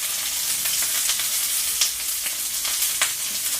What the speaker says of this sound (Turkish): Şimdi bu hemen kızarır.